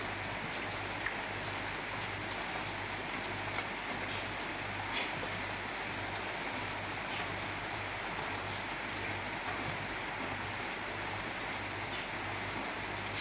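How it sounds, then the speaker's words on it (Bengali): Heavy rain falling continuously in the evening, a steady even hiss with no pauses, fairly faint, with a low hum underneath. "সন্ধ্যার থেকে শুরু হয়েছে বৃষ্টি, কন্টিনিউ হয়ে যাচ্ছে"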